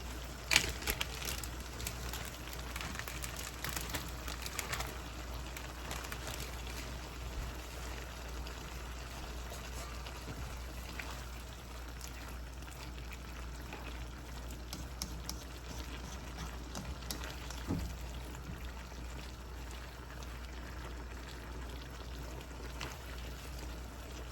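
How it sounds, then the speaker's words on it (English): Shrimp frying in a pan make a steady, faint sizzle with scattered crackles and pops, continuous with no voices. "Now we can add our shrimp."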